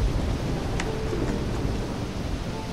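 A thunderstorm in the video game Risen, with heavy rain pouring steadily and a low rolling rumble of thunder underneath, loud and close throughout.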